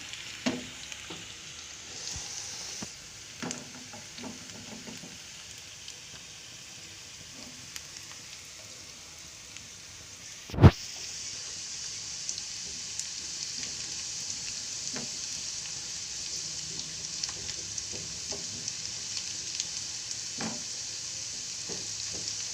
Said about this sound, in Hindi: प्याज देखते हैं, बस ये आ ही रही है ब्राउन होने पे